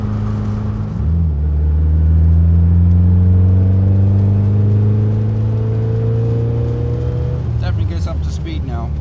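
A 1963 Karmann Ghia pulls away and accelerates, its engine droning steadily upward in pitch from inside the car, loud and continuous with a faint shift near the end; a voice speaks briefly.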